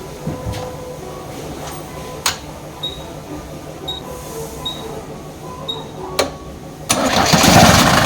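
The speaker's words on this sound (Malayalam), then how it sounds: "ഇത് ഹീറ്റ് ചെയ്ത് സ്റ്റാർട്ടാക്കുന്ന എഞ്ചിനാണ്" A 46-year-old Mercedes-Benz W123 under restoration, preheated before starting: a few sharp clicks and faint repeated chirps, then near the end the engine catches and runs in a loud, close rumble, with no talk.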